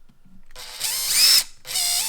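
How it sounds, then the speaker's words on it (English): A power drill switched to low speed drives a tap through a guide hole during model assembly. It whines in two sustained bursts, with a brief stop between them, heard close and alone. "Now we once again switch our drill to low speed and load the tap in."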